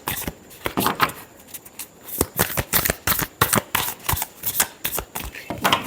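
Tarot cards being shuffled by hand in a rapid run of crisp riffling bursts and slaps, close and fairly loud, with no talking.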